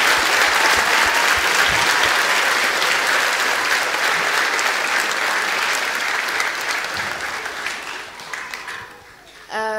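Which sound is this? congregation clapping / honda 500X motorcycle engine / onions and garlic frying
congregation clapping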